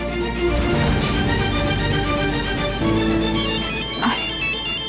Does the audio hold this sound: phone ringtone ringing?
yes